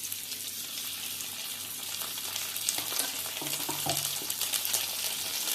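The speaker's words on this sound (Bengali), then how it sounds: "আলুগুলো ভাজা হয়ে গেছে, একটু আদা বাটা দেবো।" Potatoes fry in hot oil as ginger paste goes into the pan for alur dom, a continuous bright sizzle with scraping stirs and a faint drip of water partway through, no voices.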